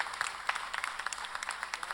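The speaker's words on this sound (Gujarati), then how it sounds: "તારક જોશીપુરાનું પણ એટલું જ જોરદાર તાળીથી સ્વાગત થાય." An audience at a stage event in Vadodara welcomes Tarak Joshipura with applause, a fairly faint patter of individual claps with distinct sharp hits at an uneven pace.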